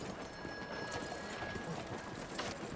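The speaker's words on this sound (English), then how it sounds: "just the horses on stone" Horse hooves clip-clopping on stone streets in a video game city, a steady run of hoofbeats under a busy ambient bed with a faint tone; no talk.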